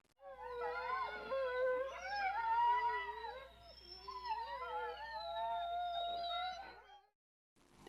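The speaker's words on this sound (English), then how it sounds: "Coyotes can produce vocalizations that resemble screams" Coyotes in open desert terrain give wavering, howling cries and scream-like wails, several voices overlapping in a continuous chorus for about seven seconds before falling silent.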